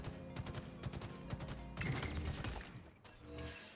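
Rapid battle rifle bursts from Halo Infinite, loud and close, firing in repeated quick bursts over dense game effects, followed by a heavier cluster of impacts and shattering debris.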